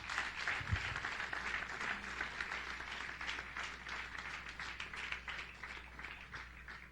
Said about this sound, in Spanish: Denle un aplauso al Señor en esta noche